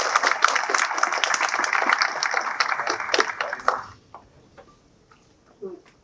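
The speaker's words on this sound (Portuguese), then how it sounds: "uma salva de palmas para o Saulo" Audience applause greeting a speaker at an entrepreneurship talk for a fight team, dense steady clapping for about four seconds that then drops off to scattered claps and quiet room noise.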